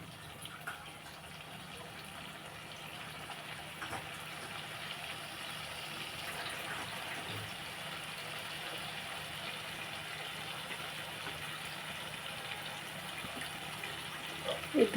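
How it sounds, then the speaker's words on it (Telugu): Water pours into a cooking pot of prawn and gongura curry, a soft steady splashing gush at low level that continues throughout, ending with a few louder clanks. "వాటర్ వేస్తున్నాను"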